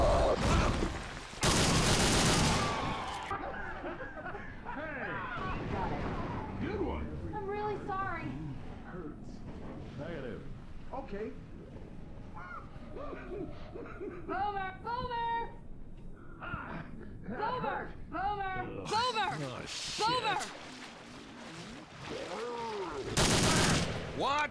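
Left 4 Dead 2 gunfire on a custom map in expert realism mode, with loud bursts of shots at the start and end. In between, voices call out under scattered pops.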